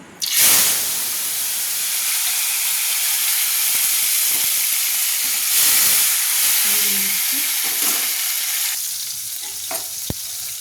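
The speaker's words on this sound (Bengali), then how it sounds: "তেলটা আমার গরম হয়ে গেছে, তুলে দিচ্ছি কোচানো টমেটো।" Chopped tomatoes drop into hot oil with a loud, close burst of sizzling, then fry in a steady hiss and spatter with occasional stirring clatter, without any talking.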